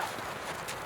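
Horse hooves clip-clop at a gallop in a riding-club lesson, a steady muffled patter of hoofbeats heard briefly against noisy outdoor background.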